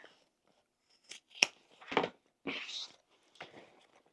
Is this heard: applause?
no